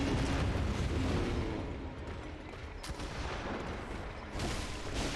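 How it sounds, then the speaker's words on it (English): Enemy gunfire in the game Bloodborne: dense, continuous booming blasts and crackling shots roll on for several seconds at steady loudness, with sharper cracks near the middle and end. "He just shot me again there without reloading"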